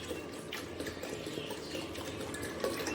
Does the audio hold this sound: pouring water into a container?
yes